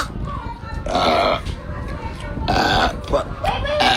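Several deep, drawn-out belches come one after another, loud and close, with brief gaps between them.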